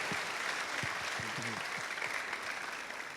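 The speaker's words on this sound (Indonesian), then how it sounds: "mana tepuk tangannya?" Students at a state senior high school assembly in Jepara applaud together, a sustained dense clapping from a crowd filling the room at even loudness.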